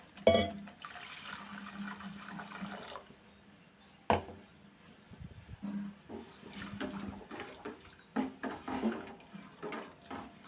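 Water is poured and sloshes into a pot of pepper rasam in two stretches, with faint clinks and splashes in between.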